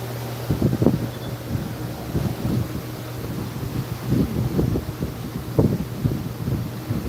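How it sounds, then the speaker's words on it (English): Wind buffets the microphone in gusty, uneven low rumbles that rise and fall, with no talking. "Pretty windy in here, huh, guys?"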